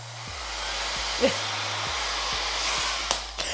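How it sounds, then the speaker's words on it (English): A hair dryer whirs on and runs with a steady, loud airy hiss, a few small clicks and bumps over the constant blowing. "This blow dryer is bomb. And just hear it turn on."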